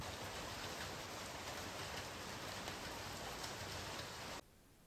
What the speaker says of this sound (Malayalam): എന്നപ്പോൾ മഴയുണ്ട്